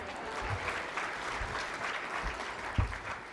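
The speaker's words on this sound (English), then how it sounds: "Give yourselves a round of applause for being here." Applause from an audience at a virtual school gala, a steady wash of many hands clapping with low thumps throughout, moderately loud and continuous.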